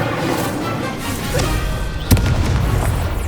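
Incendio fire spell blast in a Harry Potter wizarding game, a low rumbling whoosh that swells and then breaks into one sharp, loud burst near the end, close and alone.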